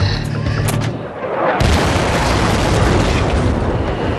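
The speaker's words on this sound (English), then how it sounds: "is the bang you get from 200 pounds of explosives" Blast from a 200-pound bomb dropped by an F-18 jet during military pilot training in Canada, a sudden heavy boom that rolls into a long rumbling roar after a quieter stretch of engine noise.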